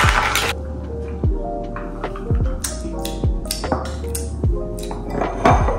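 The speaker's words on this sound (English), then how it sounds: "A nice stir." A spoon clinks repeatedly against a cup while stirring a drink made with sweet cream, giving a steady series of close, bright taps at a regular pace, with no one talking.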